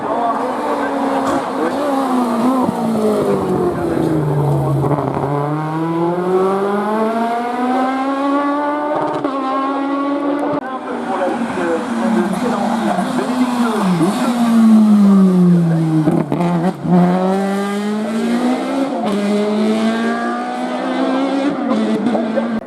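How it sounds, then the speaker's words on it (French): A Golf race car with an engine above 300 horsepower climbs a hillclimb course, its loud engine note rising and falling through repeated gear changes as it passes close by, with a voice talking over it. "Qui est un moteur au-dessus des 300 chevaux hein, sur cette Golf"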